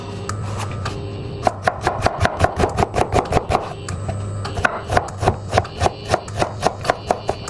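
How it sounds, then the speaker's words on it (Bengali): Onion, garlic and coriander leaves chopped with a knife on a board, a fast, steady run of crisp, close knocks that speeds into an even rhythm. "এখন আমি বাকি মশলাগুলো কেটে নেই, পেঁয়াজ, তারপর রসুন, ধনিয়া পাতা, এগুলো।"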